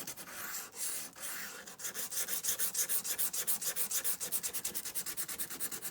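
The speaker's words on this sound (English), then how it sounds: "I might just sand a little on the bottom." Sandpaper rubbed by hand across the bottom of a junk journal cover, scratching in a steady run of quick, close, even back-and-forth strokes that speed up into a regular rhythm.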